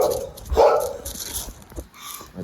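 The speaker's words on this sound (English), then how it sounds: "My dog's going crazy." A dog barks excitedly in short, loud, close bursts with yips mixed in, over a couple of seconds.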